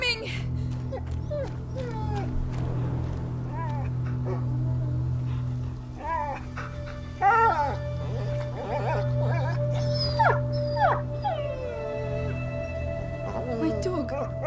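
A dog in the video game A Plague Tale: Innocence whimpers and howls in drawn-out, wavering cries, with game voices and ambient sound around it.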